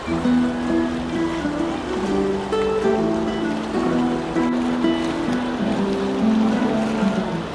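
Flooded, muddy Ganga river at Purnanand Ghat in Rishikesh during heavy monsoon rain, rushing past submerged ghat pillars; a continuous loud roar of churning water with steady low tonal hum, no talking.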